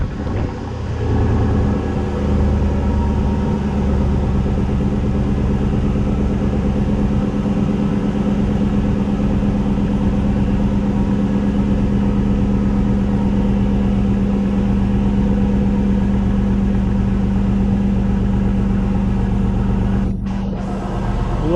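Car engine with a newly installed Total Flow muffler idles as it warms up, a steady low drone that carries on evenly throughout with no talking.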